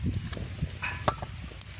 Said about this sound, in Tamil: பொரிக்கத்தானே வேணும்